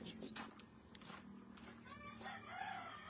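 Roosters crowing and hens clucking nearby on a farm over steady background hum, with some faint shuffling and voices mixed in.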